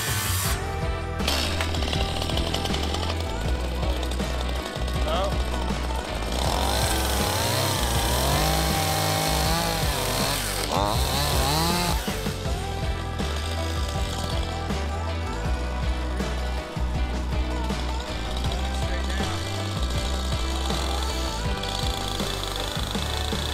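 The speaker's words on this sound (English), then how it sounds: "cut it on top and bottom with a circle saw, and then we're gonna get the middle section with a chainsaw" A circular saw and a chainsaw cut through a heavy wooden beam for a header on a pole barn build, giving a loud, continuous engine drone with harsh cutting noise throughout.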